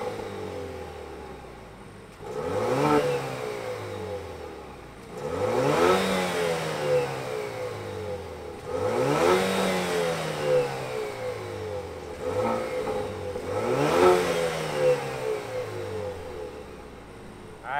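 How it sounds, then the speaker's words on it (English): A 2022 Chevrolet Camaro LS engine revs repeatedly, each rise climbing to a roar then falling back to idle, about five loud close sweeps with a steady rumble in between. "Why don't we fire it up and hear what it sounds like?"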